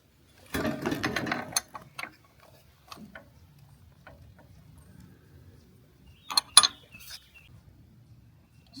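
A ratchet with a swivel socket works on a tight starter bolt of a John Deere 1520 tractor: a burst of rapid clicking near the start, scattered faint ticks, then a second short clatter of clicks.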